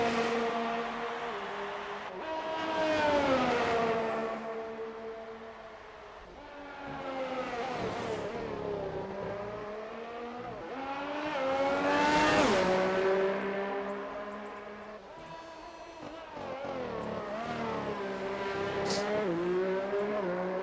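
Formula 1 cars, a Red Bull and a Toro Rosso, run laps in a racing game during qualifying, engines rising and falling in pitch as they accelerate, shift and pass, with occasional tire squeal.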